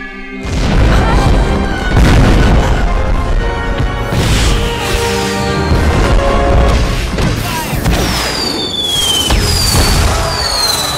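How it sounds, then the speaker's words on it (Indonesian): Loud fireworks going off in a dense barrage of booms and crackles, with whistling rockets streaking upward near the end. "warga menyalakan kembang api dan mengarahkannya ke arah Theodora"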